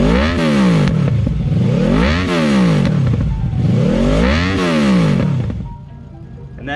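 A 2014 Honda VFR 800 engine revs repeatedly, rising and falling in smooth swells as the VTEC shifts from two valves to four, giving a changing, raspy engine note, loud and close, dropping to idle at the end.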